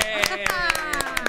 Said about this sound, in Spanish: ¡Aplauso para eso!